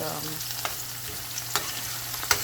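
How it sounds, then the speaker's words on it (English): Scallion sautés in a hot pan with a steady close sizzle and a few soft clicks of stirring. "sauteing the scallion"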